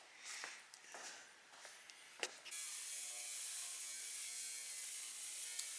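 Upholstery tacks being pried out of an Emil J. Paidar barber chair, a few sharp metallic clicks and scrapes up close, then a steady hiss of background noise with no talking.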